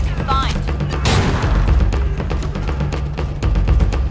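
A grenade explosion in the video game Homefront: The Revolution, a loud broadband burst early on followed by scattered thuds and gunfire-like impacts amid ongoing battle noise.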